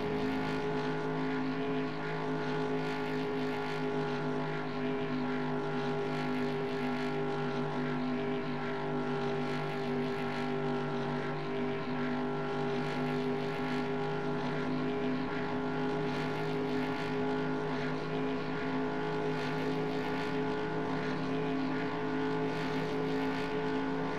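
Race cars from the 1996 NASCAR Racing 2 video game hum in a steady, synthetic engine drone that holds constant for the whole stretch, with faint periodic pulses and no voices.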